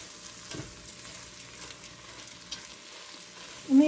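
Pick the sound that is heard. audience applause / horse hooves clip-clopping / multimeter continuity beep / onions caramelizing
onions caramelizing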